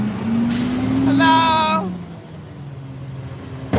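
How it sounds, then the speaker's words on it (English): A garbage truck passes outside with a rising and falling engine drone and a sharp air-brake hiss midway, fairly close, with one brief spoken word over it. "That's the garbage truck."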